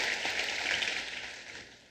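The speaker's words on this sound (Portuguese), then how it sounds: "Você pode aplaudir o Senhor?" Church congregation applauding together after a prayer, a dense steady wash of clapping filling the space and slowly tapering off toward the end.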